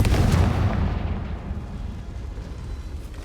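A blasting spell from a Harry Potter video game bursts in a deep, heavy boom at the start, then rumbles and fades over a few seconds.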